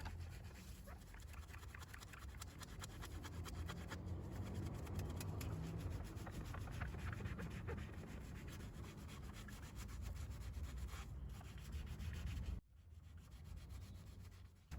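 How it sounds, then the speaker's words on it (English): Wheel-spoke sponges scrubbing the grimy wheel spokes of a Ford Focus coated with wheel cleaner, giving a faint, steady rubbing and swishing that breaks off briefly near the end, with no voices. "give them one last quick coating of Cleanse Wheel Cleaner and give the Sponge Guru wheel spoke sponges a go"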